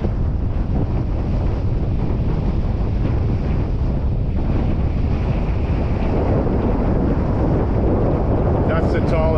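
Strong, steady wind roars across the microphone aboard a sailboat at sea in the Caribbean, a continuous loud rushing buffet with a low rumble and no break.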